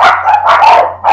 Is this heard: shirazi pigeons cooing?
no